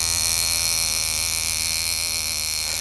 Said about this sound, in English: what that sound is there is a little hammer very quickly hitting against an internal membrane, which gives it this sort of cricket noise.